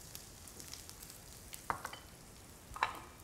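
Cashews lightly sautéing in a pan for a Keralan vegetable stir fry, a faint, steady low sizzle with a couple of brief sharper clicks of nuts or a utensil, no voices.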